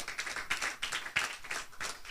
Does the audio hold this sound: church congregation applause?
yes